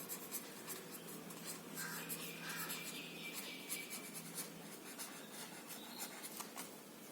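Pen writing on paper in a maths lesson, faint close scratching strokes in short irregular bursts, steady and quiet with no talk.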